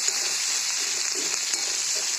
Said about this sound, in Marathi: म्हणून मी ह्या कढईमध्ये फोडणी टाकले ते बघा